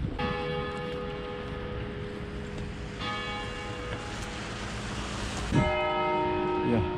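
A church bell in Wilhelmshaven, northern Germany, rings repeatedly with long, overlapping resonant strikes, heard from a moderate distance with faint background noise.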